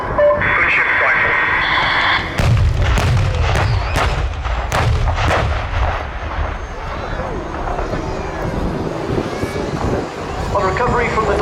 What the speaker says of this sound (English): Recovery from the diving fire profile, delivering a successful rocket strike, Jim reacts dynamically to avoid any ground